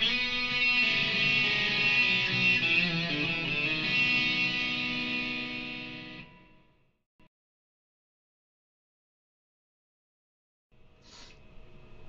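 Distorted electric guitar plays a solo lick for about six seconds, then silence, with a faint click and a new note starting near the end.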